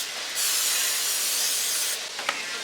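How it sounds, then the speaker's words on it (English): Butter cooking spray hisses steadily from a can onto a pan for about two seconds, loud and close, then cuts off, followed by a small clatter. "you gotta spray on this butter"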